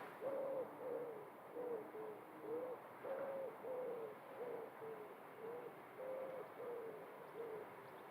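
Pigeons coo softly and low in a steady rhythm, a couple of notes at a time, against faint outdoor background noise at Leeds Bradford Airport.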